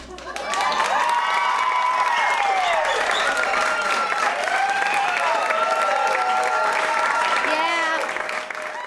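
A concert audience bursts into loud applause mixed with cheering, whoops and shouting voices, a dense roar that swells in and holds steady, heard close and full.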